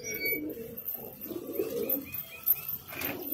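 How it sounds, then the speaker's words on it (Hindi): Pigeons kept in a rooftop loft coo softly in a quiet outdoor setting, with a few light chirps and a brief flutter near the end. "ये देखो भाई, कितने सारे कबूतर हो गए हमारे पास"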